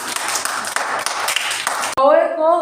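Quick rapid clapping rattles for about two seconds at a children's storytelling session, then stops abruptly as a voice starts talking.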